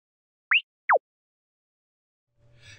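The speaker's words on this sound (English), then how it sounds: "Now listen to a sequence where the first sound goes up and the second down." Two short electronic tones, the first sweeping upward in pitch, the second sweeping downward, separated by a brief gap, followed by faint low noise.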